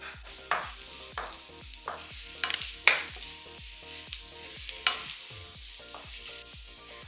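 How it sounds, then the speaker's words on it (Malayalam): Onions sautéing in a pan for chicken biriyani, with a steady soft sizzle and repeated scraping stirs of a spatula, close and fairly quiet, no voices. "ഞാനിപ്പോൾ ഇതേ സവാള വഴറ്റിക്കൊണ്ടിരിക്കുന്നു"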